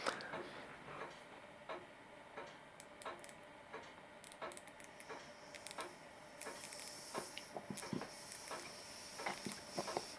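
Air blown through a hose into the mixture needle valve of a 3.5cc Mikro Std 1965 model diesel engine gives a faint, steady hiss, with scattered small ticks and clicks close by.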